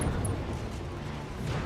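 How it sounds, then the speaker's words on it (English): Inferno SRM missile blast in the BattleTech video game, a low rumbling, sustained roar of fire and detonation that holds steady for under two seconds with no voices. "Inferno SRM explosion."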